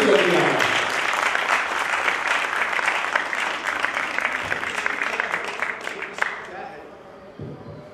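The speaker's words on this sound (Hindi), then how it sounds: "तो एक बार जोरदार तालियां इसलिए बजा दीजिए आपको फिर से गर्मी आएगी" A crowd bursts into loud, sustained applause that gradually thins and fades out, with a few scattered claps near the end.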